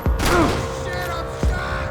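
Two heavy gunshots from Max Payne 3 thump out about a second and a half apart, close and loud, with a voice shouting between them.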